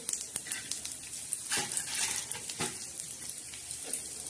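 Crackling and spluttering of an ingredient frying in hot oil in a home kitchen pan, a steady broadband sizzle with sharper pops and bursts scattered throughout, close and fairly loud, no voices.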